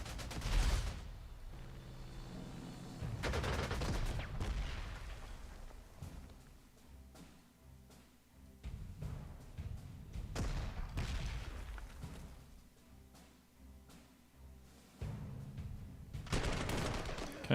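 Bursts of strafing gunfire crackle and thud in several separate clusters with quieter gaps between, like volleys and booms in the World War II strategy game Panzer Corps 2 during the Battle of Moscow.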